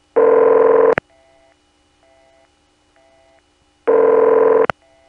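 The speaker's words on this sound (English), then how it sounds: "It's a typical sub-exchange type ring." Telephone sub-exchange type ringing tone: two loud, long buzzing bursts about four seconds apart, with faint repeating tones on the line between them.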